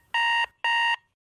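Two long, loud alarm clock rings with a bright electronic buzzing tone, each lasting about a third of a second, separated by a short gap, alone with no voices.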